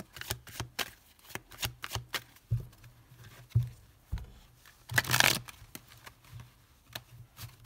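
Tarot cards shuffled and laid out on a surface, a series of quiet riffling flicks and soft slaps in irregular bursts, with one longer fuller shuffle near the middle, no talking.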